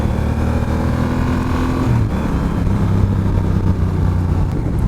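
A Honda Rebel 1100 motorcycle accelerates on the road, its engine note steady and loud with a rising tone shift partway through, no talking over it.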